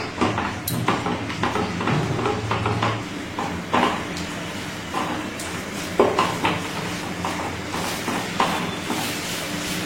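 Cauliflower and potato curry being stirred in a pan with turmeric, Kashmiri chilli powder and salt, giving soft scraping and clattering utensil sounds over a steady low sizzle, close and moderately loud, with no talk.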